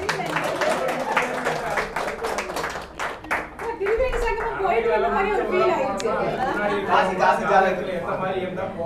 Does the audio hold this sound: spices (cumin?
no